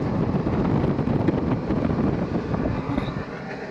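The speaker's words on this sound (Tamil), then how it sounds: "காற்று எப்படி அடிக்குதுன்னு தெரிஞ்சுக்கலாம்" Strong wind near the Belum caves in Andhra Pradesh roars continuously into the microphone as a loud, steady rushing buffet with no talking.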